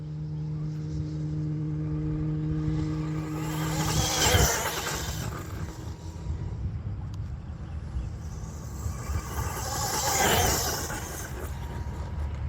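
A Team Corally Syncro4 RC car on 6S power runs off-road at full throttle, its electric motor whining up in two rising passes that swell and fade at a moderate distance amid outdoor noise.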